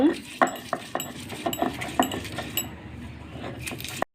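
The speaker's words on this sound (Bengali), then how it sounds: "পেঁয়াজগুলো এখন ভালোভাবে বেটে নেব" Onions being ground on a stone grinding slab (pata) for a pumpkin-leaf fritter recipe with dried fish, heard as sharp, irregular scraping knocks and clinks of stone on stone, with a few brief background sounds between strokes.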